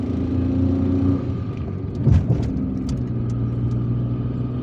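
A car drives through Algiers city traffic on the way back to the central post office: a steady mid engine hum with road noise and a brief louder surge partway through, no voices.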